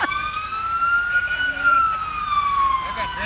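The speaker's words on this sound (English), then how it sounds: "I guess you wouldn't want a quiet siren on a fire truck now" A fire truck siren wails through an outdoor parade at an October festival, holding a steady, slowly falling tone with loud harmonics, close and continuous, over faint crowd and street noise.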